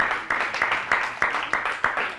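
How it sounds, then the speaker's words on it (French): An audience applauds Ayman after a contest bout at a school event. Sharp claps land in a steady rhythm, roughly three per second, fairly close and moderately loud, with no talking over them. "On applaudit aussi Ayman qui a livré un très beau combat."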